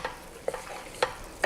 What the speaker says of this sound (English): Give it a big stir.